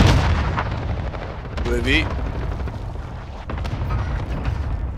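Airstrike explosions rumble in a multiplayer shooter video game, a continuous low booming barrage that rolls on through the whole stretch, with a brief higher sweeping tone in the middle and a voice talking over it.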